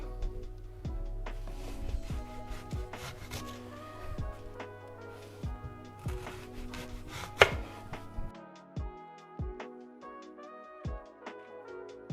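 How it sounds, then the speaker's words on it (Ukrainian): An onion is chopped with a knife on a board for oven-baked shashlik skewers, giving a steady run of close, crisp knocks with brief pauses, which thin out and become sparser toward the end. "А я тим часом наріжу цибульку і сформую шашличок."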